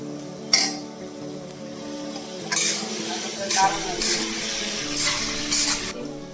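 Spices and cumin powder fry in a pan with a loud close sizzle broken by bursts of stirring and scraping, while a voice talks faintly in the background.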